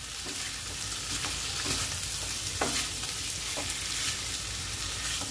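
A dry spiced mixture with kasuri methi fries in a pan, giving a steady close crackling sizzle with a few soft scraping stirs, and no talk over it.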